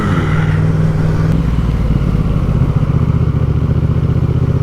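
A motorbike accelerating along a rough, bumpy road, the engine close and loud with a rising, pulsing drone and some rattling clatter as it picks up speed.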